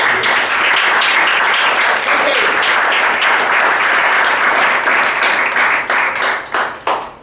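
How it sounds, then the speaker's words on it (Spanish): Loud, dense applause from a church congregation fills the space steadily, then breaks into separate fading bursts of clapping toward the end. "Dale un aplauso."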